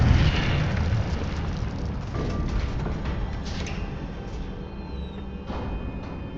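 Incendio fire spell cast in Hogwarts Legacy: a loud, rumbling burst of fiery roar that starts strong and slowly fades, with crackling pops and a thin rising whoosh near the end.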